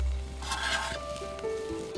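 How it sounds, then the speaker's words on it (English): Stuffing fries in a pan on a backcountry camp stove, giving a soft, steady sizzle with faint crackles close by and no talking. "I can hear it sizzling away."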